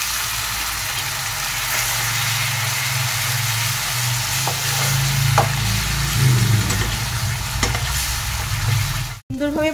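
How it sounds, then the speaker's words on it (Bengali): Masala for egg lababdar, with kasuri methi and a little water, fries and is stirred in a pan, giving a steady loud sizzle with scraping strokes throughout and a sharp knock near the end. "মশলাটা সুন্দরভাবে আমি এটা কষে নেব"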